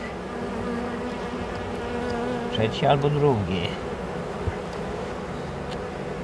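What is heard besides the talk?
honeybees buzzing at hive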